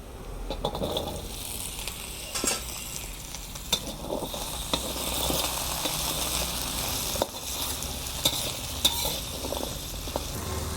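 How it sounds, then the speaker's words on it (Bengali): Potatoes fry in hot oil for a bitter gourd curry, giving a continuous sizzle broken by scraping stirs and sharp utensil clicks against the pan, close and without voices. "এবার এই তেলে আমি দিয়ে দেব আলুগুলো"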